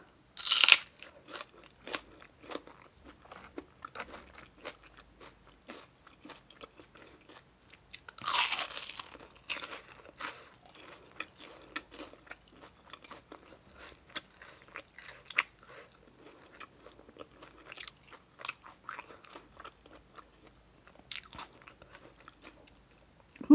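Crispy deep-fried pork belly cooked with fish sauce being bitten and chewed close up, repeated dry crunches and crackles in an irregular rhythm with a few louder bites, no talking.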